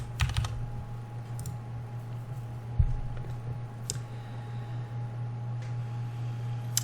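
Numbers are entered on a computer keyboard in a few short bursts of clicky keystrokes, close and distinct over a steady low electrical hum.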